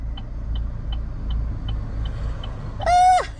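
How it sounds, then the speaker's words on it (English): A car rumbles with a low continuous interior drone while being shaken, a faint regular ticking runs through it, and a loud descending squeal or horn-like cry bursts out near the end. "He's shaking the car."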